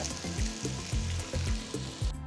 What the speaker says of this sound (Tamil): நறுக்கின உருளைக்கிழங்கு சேர்த்து வதக்குங்க.